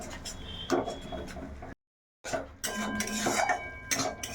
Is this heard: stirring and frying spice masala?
yes